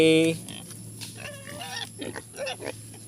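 Pigs kept as piglets on a farm grunt and oink close by in a quick series of short snorts and squeals, with a brief louder noise at the start.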